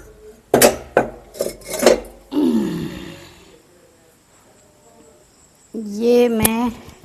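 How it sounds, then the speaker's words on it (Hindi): An iron kadhai knocks and clatters as it is set down on a stove, several sharp metallic clanks followed by a scraping rattle and a later burst of sound. "ये मैं अब रख रही हूँ कढ़ाई।"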